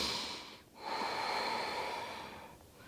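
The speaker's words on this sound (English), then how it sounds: "Take 3 rounds of breath." Slow, deep breaths during a morning yoga flow, a close, airy inhale and exhale with a short pause between, soft and unhurried, no talk.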